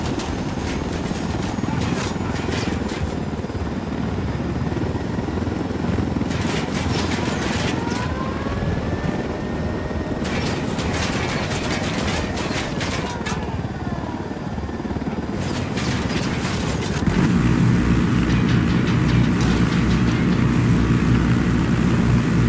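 Helicopter rotor drone from a chopper in the video game Tom Clancy's Ghost Recon, a steady loud whir beneath gunfire-like bursts and game noise, with voices talking over it throughout.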